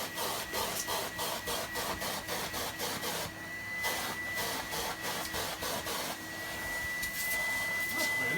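A Goblin bagless vacuum cleaner runs with a loud, steady motor whir, overlaid by fast rhythmic pulsing clatter and a thin whine that rises partway through, with no voices.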